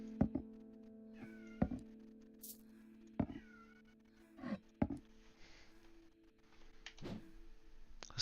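A cat meows several times in short, separate calls, close and clear, with dull thunks between them and no talk over it.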